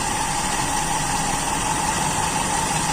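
A Toyota Kijang engine idles while its distributor timing is being set. It gives a loud, close, steady mechanical drone with a constant low rumble and hum throughout, and no voices.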